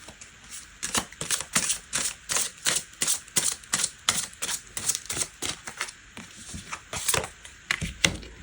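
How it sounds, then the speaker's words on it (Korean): Tarot cards getting shuffled and handled from a deck before one more is drawn: a rapid run of crisp riffling and flicking bursts, close and fairly loud, with no speech. "진짜 마지막으로 카드 하나 더 뽑을게요."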